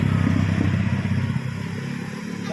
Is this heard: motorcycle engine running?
yes